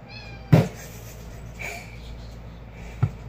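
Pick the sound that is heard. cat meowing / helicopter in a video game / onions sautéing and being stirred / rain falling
cat meowing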